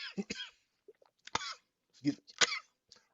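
Several harsh coughs and throat-clearing bursts come in irregular clusters, close and fairly loud, with silent gaps between them.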